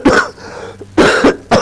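A man coughs sharply several times in quick bursts, close and loud, with short pauses between them and no speech.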